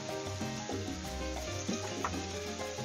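Sofrito sizzles and browns steadily in a hot pan, a continuous soft crackle with small stirring scrapes and no talking.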